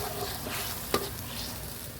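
Catfish stir-fried in a hot pan with a handful of sliced fingerroot, a steady close sizzle and frying hiss with a brief scrape of stirring partway through.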